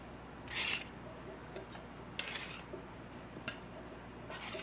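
Freshly baked peanut butter cookies set onto a plate, a few short scraping, clinking contacts spaced apart against a quiet room background.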